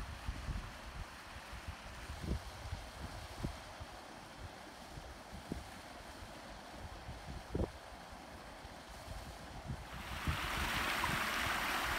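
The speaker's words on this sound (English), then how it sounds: "This is my backyard waterfall." Steady rushing water of a small backyard waterfall, fairly quiet and continuous, with a few faint thumps and a burst of hiss toward the end.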